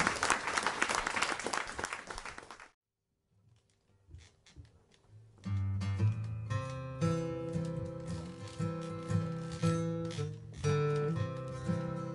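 At an acoustic music club, a burst of audience applause fills the room for a couple of seconds and stops abruptly. After a short near-silence, acoustic music with a strummed guitar begins.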